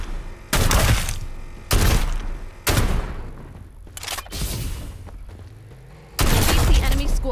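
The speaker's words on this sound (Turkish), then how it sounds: "Pompalı deneyelim." Shotgun blasts from the video game Farlight 84, fired one at a time: five loud, booming shots spaced roughly a second apart, each ending in a short decaying tail, with a brief thud between them.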